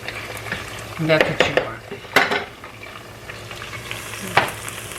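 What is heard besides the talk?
rice with gandules browning and sizzling in a pot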